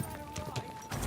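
A horse trots with rhythmic hoof clip-clops in Kingdom Come: Deliverance 2, the steady beats moderately close over a busy background murmur.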